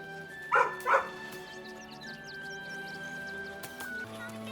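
A dog in the video game Baldur's Gate 3 gives two quick, close barks, followed by soft whimpery yips over steady game music and ambience.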